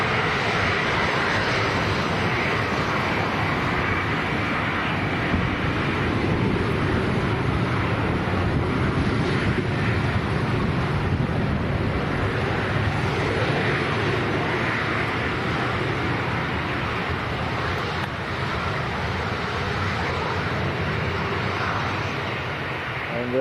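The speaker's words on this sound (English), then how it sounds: "Jet 2 to Dubrovnik, Boeing 733." A Jet2 Boeing 737-300 airliner at Leeds Bradford Airport produces a broad, continuous roar that holds steady throughout, with wind noise mixed in and no talk.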